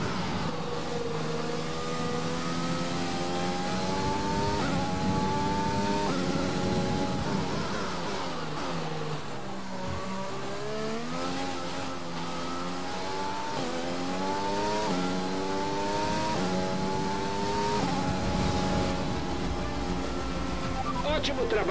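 A Formula 1 race car engine in F1 2020 at the British Grand Prix revs high and shifts through gears, rising and dropping in pitch repeatedly, with a voice talking over it.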